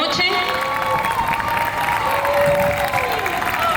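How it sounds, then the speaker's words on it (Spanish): An audience at an annual gala breaks into loud applause and cheering for performing children, the dense clapping mixed with shouts and a voice speaking over the crowd. "Un fuerte aplauso, por favor"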